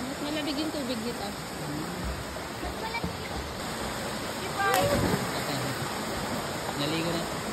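Blue Water Falls rushes as a constant broadband roar of falling and flowing water, loud and close, with faint voices briefly audible beneath it.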